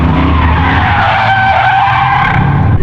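Drift car tires skid with a loud, continuous screech over engine roar, sustained without a break for nearly three seconds.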